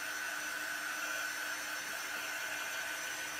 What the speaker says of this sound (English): You don't have to use a dryer to dry it, but just speed the process up.